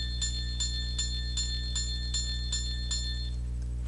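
A looping bell sound file plays back alone, with evenly spaced bright chimes struck about every 0.4 seconds over a steady low hum, each strike ringing briefly before the next.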